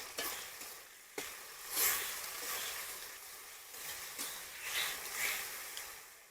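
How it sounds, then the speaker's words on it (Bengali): Chopped onion and garlic paste frying in hot oil, a steady soft sizzle with occasional stirring scrapes and clinks, fairly quiet and heard alone without any talking. "পেঁয়াজ কুচোনো রসুন বাটা একসাথে ভালো করে ভেজে নেবো।"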